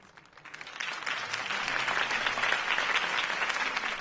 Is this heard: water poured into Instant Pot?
no